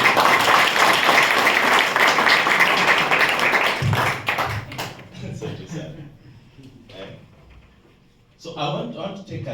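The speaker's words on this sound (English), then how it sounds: "Let's clap for her." An audience bursts into loud, dense clapping at a community presentation of a civic web platform, then the applause thins out and a voice begins speaking over fading claps.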